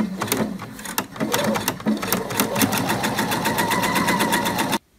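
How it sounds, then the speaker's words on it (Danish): A sewing machine with an 80 needle and polyester thread stitches side seams at one centimetre, its quick rhythmic stitching loud and close, speeding up before stopping abruptly at the end. "Og så syr jeg med en centimeter søm."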